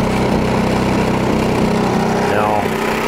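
A Champion 2500 watt dual fuel portable inverter generator engine runs steadily with a chugging, buzzing drone, close by and loud, no voices over it.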